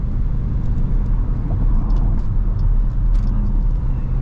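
A 2021 Dodge Durango R/T Blacktop RWD with a Hemi V8 climbs uphill at freeway speed, its steady, loud engine drone blending with road and wind noise inside the cabin.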